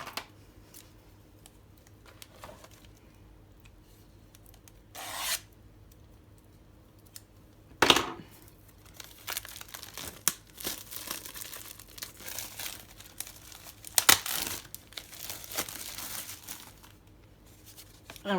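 Someone opens a bag holding wooden pieces for a miniature house kit, with scattered plastic crinkles and rustles, a few sharp snips and tearing bursts, close and fairly quiet.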